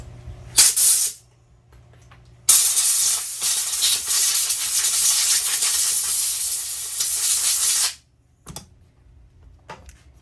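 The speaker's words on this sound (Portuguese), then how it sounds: "um jato de ar." A compressed-air jet blasts moisture off a chainsaw spring: a short loud hiss, a pause, then a long steady high-pitched blast lasting several seconds before it cuts off, followed by faint clicks.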